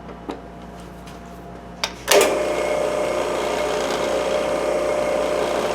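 A drill press reaming a hole spins up after a couple of light knocks, settling into a steady, fairly fast whirring hum with a faint scraping edge, close by and without talk.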